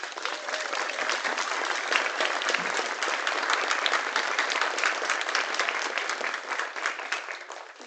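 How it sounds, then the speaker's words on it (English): Audience applause at a school senior concert, a steady room-filling clapping from a sizable crowd that holds at an even level for several seconds without any voices. "a round of applause for them"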